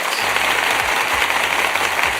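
Thick, sustained crowd applause, loud and even throughout with no voices over it.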